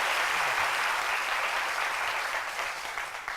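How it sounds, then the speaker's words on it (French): A television studio audience claps for a guest on an Ivorian broadcast, a brief dense burst of applause that starts full and fades toward the end. "ah d'accord, des applaudissements, merci beaucoup"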